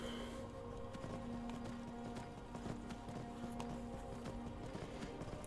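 Horse hooves clip-clop at a steady walking pace in the video game Skyrim as a strange-looking rider on an odd horse approaches, moderately loud over a constant low ambient hum.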